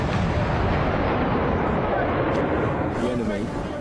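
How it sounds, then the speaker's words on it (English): Mortar rounds fired by a Royal Marines mortar team at a Taliban position where IEDs were being laid, heard as a loud, dense, continuous roar of blasts and rumbling with murmured voices underneath. "the mortar team have been scrambled to target their position"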